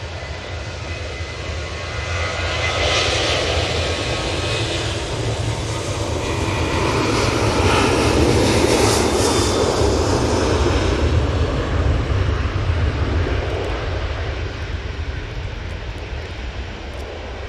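A Ryanair jet airliner roars down the runway on its takeoff roll at Manchester Airport, a loud, sustained engine rumble and whine that swells and holds steady throughout.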